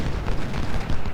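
Artillery volley from cannons and howitzers in the Civil War strategy game Ultimate General: Civil War, a dense, sustained rumble of overlapping booms and blasts, loud and continuous with no talk.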